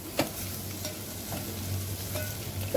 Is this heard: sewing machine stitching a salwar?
no